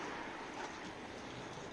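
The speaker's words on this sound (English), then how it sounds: "Let's just chuck some water on." Water poured from a jug onto a car windscreen makes a short, soft, continuous splashing wash over the glass, quiet and close.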